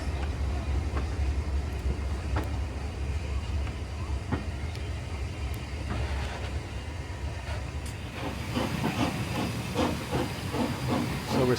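Steam locomotive Repton standing at a North York Moors station, a steady broad hiss of steam with faint clanks, joined later by a rougher, chuffing texture.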